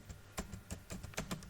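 Quick, light keystrokes tap on a computer keyboard in an irregular patter of about ten clicks, soft and close, with no talking.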